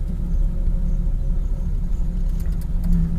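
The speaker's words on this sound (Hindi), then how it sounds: "गाड़ी राइट साइड में टर्न कर लेता हूँ" A Maruti Omni car turns right at low speed. Its engine gives a steady, low rumble heard from inside the vehicle, with faint rattles near the end.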